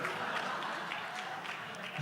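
An audience applauds in a continuous dense patter at a group session, steady and moderately loud throughout, with some voices mixed in.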